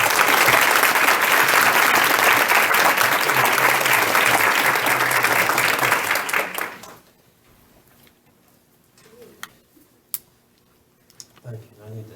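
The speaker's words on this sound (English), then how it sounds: "Let me give her a round of applause." A room erupts in loud, dense applause for the salutatorian at a Pickens County Board of Education meeting. It holds steady for about seven seconds, then cuts off into near-silence with a few faint scattered clicks.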